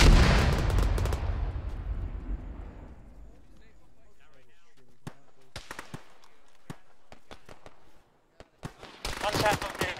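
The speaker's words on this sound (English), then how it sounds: "You got a mortar coming in 20 meters closer." Incoming mortar fire in the video game Arma during a ShackTac squad session: a loud blast at the start decays over several seconds, then sharp distant shots crack sporadically and end in a burst of noisy fire.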